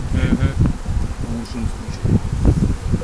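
Dense, close buzzing of many honey bees at a hive, a constant droning hum with faint rustling, no clear speech.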